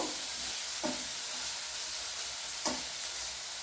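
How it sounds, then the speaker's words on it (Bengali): A ground cumin and coriander spice paste fries in a pan for masala chicken, a constant close hiss with two distinct scraping stirs of a spoon, no one talking. "দিয়ে মশলাগুলো আমি খুব ভালোভাবে কষিয়ে নেব।"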